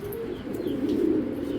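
Low, soft cooing from a female pigeon, a continuous throaty murmur with faint chirps above it, fairly close.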